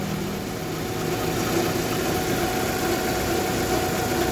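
A Toyota Corona Absolute car engine idles steadily on a cold morning with a low, even rumble and faint vibration, continuous and unchanging throughout, with no voices.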